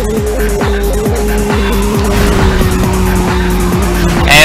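In the Midnight Club II video game, a car hits a nitrous boost, its engine droning steadily while tires squeal and skid in a rapid repeating chirp, loud and close, with no talk.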